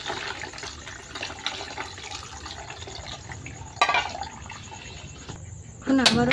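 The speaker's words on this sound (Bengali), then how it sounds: "এখন একটু ঠান্ডা পানি দিয়ে ধুয়ে নেব।" Cold tap water splashes over freshly boiled noodles in a strainer, a steady rushing hiss with a few clinks of cookware and a sharper clatter near the end.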